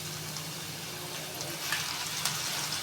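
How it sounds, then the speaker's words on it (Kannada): Chopped half tomato tipped into onions frying in a pan for spicy sev tamatar sabji, giving a steady soft sizzle with faint stirring scrapes and a few small clicks, close and fairly quiet throughout. "ಒಂದು ಅರ್ಧ ಟೊಮ್ಯಾಟೋನ ಚಿಕ್ಕದಾಗಿ ಕಟ್ ಮಾಡ್ಕೊಂಡದನ್ನ ಇದಕ್ಕೆ ಸೇರಿಸ್ತೀನಿ"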